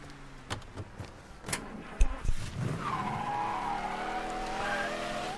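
A car in the Mafia III video game skids with a sharp tire squeal, then its engine revs up and holds a steady drone as it drives off, with a few knocks and thuds before the skid.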